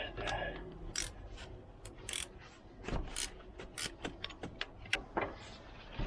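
A spanner works a bolt loose on a Volvo 940 Turbo engine during head gasket removal. The clicks and ratcheting are quiet and intermittent, mixed with faint clinks and shuffling.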